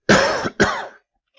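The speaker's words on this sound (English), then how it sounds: "I actually changed the slide when I coughed" Two harsh coughs in quick succession from a lecturer during a biology class on homeostasis, close and loud, followed by quiet.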